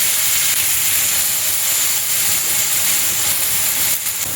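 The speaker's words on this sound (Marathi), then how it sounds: "आपण मेथी छान परतवून घेऊया" Chopped fenugreek leaves with cumin, turmeric, red chilli powder and asafoetida sautéing in a pan give a steady, loud, dense sizzling hiss that runs close and unbroken with no talk.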